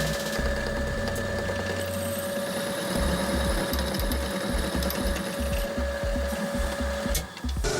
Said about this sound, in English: drill a hole with a thin drill bit